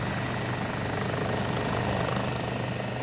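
A police helicopter on patrol sends out a loud, constant rotor and engine roar that fills the whole stretch without a break.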